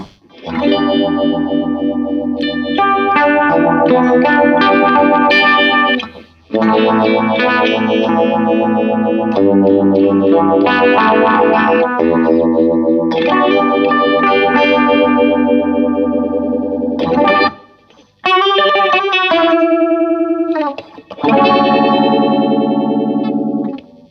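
Electric guitar chords played through a fast, warbling MXR modulation pedal with distortion, loud and wobbly, with short pauses between phrases.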